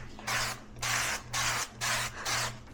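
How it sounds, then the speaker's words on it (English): Five broadband bursts of spray from a can misting a baking mat, evenly spaced and close, each lasting about a third of a second, with a steady low hum running underneath. "I need to spray this."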